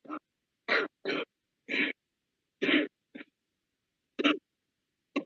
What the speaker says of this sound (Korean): 기침하시는가 보네요.